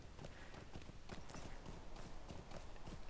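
Pack horse hooves from a video game, a brisk, even clip-clop of hoof falls, faint and close, with no one talking.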